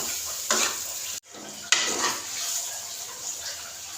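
Cooked masala tori (ridge gourd) is dished out of a pan, bringing a few close spoon scrapes against metal and soft scooping sounds over a light sizzle, with a sharp clink near the middle and no talking.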